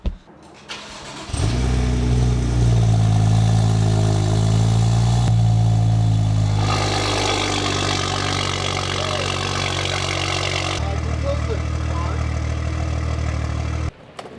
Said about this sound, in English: here's gonna be the first startup of the car